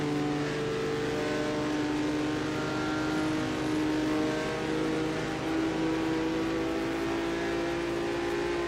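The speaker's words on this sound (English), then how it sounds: "Now downshifting a bit as they head into the first corner." A 1958 Formula 1 race car heading into the first corner at Monza during the Italian Grand Prix, its engine a steady, close, droning whine with slight shifts in pitch and no talk.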